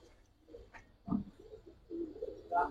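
Pigeons of the Giribaz and coloured fancy breeds coo in a few soft, low rounded calls spread across a short stretch, fairly quiet with light background noise and no talk.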